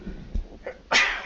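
A single sharp sneeze bursts out near the end, close and loud, after a moment of quiet breathing and soft room noise.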